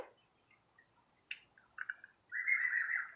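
Small birds chirp and tweet in short, faint calls with quiet gaps, ending in a longer, brighter trill. There is no speech.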